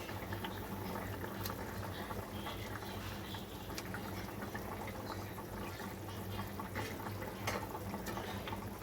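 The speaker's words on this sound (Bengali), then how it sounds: "আমার ঝোলটা খুব ভালো করে ফুটে গেছে" A pan of Bengali catla fish curry (jhol) boiling steadily, a constant bubbling simmer with small irregular pops, close and moderately quiet, with no voices.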